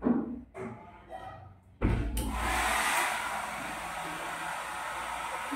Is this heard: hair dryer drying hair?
yes